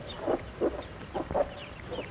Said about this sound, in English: These are Plymouth Rock chickens.